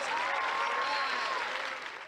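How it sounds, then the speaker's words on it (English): An audience in a TV show gym breaks into loud, sustained applause, a dense crowd of clapping hands filling the space evenly before tapering slightly at the end. "I want another round of applause for the real star of today's game."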